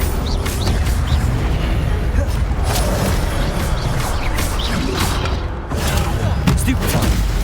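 Incendio fire spell cast repeatedly in the wizarding game Hogwarts Legacy, dense whooshing bursts and booms in steady combat, loud throughout with a brief dip near the end.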